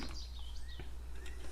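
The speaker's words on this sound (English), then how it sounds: "these birds are so loud today." Birds chirp and tweet outdoors in short, scattered calls at moderate distance over a low steady hum.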